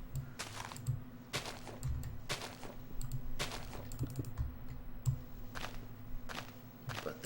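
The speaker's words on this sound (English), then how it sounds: "It's going to be a lot of clicking sounds for you guys to listen to" Computer keyboard and mouse clicks while building in Minecraft, close and fairly quiet, in irregular bursts of rapid tapping with short pauses over a low steady hum.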